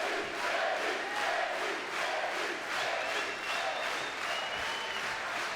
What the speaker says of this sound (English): Crowd in attendance here tonight, absolutely loving what's on offer.